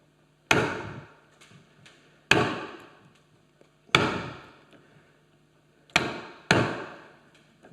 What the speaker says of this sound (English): So we're going to chop now. What we do is go in here, tighten the vise, fairly large chisel, center cut, and then either side.